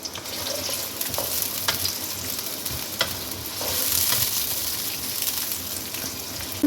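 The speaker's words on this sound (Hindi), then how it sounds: "प्याज को फ्राई कर लें।" Sliced onion frying in hot oil for aloo gosht, a loud continuous crackling sizzle with occasional stirring scrapes and pops.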